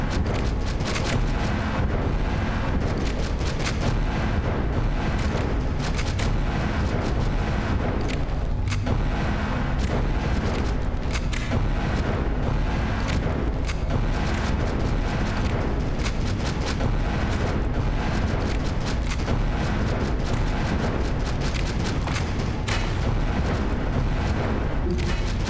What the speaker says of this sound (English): You can just use the rocket launcher.